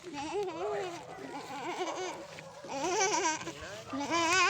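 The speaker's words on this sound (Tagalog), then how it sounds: "bakit yung kambing naglalakad dadalawang paa?" A goat bleats in wavering, quavering cries, several calls close by mixed with children's voices and talk throughout.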